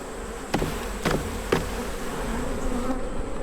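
Honey bees buzzing during a hive inspection, a steady close drone broken by three sharp knocks as frames are shaken, with no talk.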